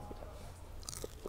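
Crunchy grub larvae being chewed up close, with a few brief crisp crunches standing out against a quiet low background.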